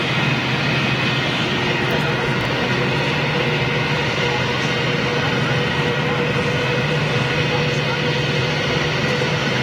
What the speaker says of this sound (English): We'll get that Etihad 330 coming right past our position.